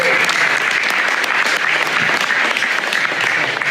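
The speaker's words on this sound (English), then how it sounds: "A huge round of applause to all of you." An audience at an AI agent hackathon demo event bursts into loud, sustained applause, dense clapping close by with a few voices mixed in.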